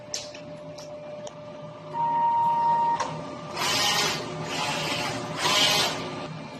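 A DTF printer runs a nozzle test print, its print head sweeping back and forth in three loud, hissing mechanical passes over a steady low motor hum, with a brief high tone before them.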